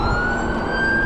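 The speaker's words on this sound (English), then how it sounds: "the ambulance is going the other way from up here" A steady wailing ambulance siren heard outdoors along a wooded trail, sustained and fairly loud with no talking over it.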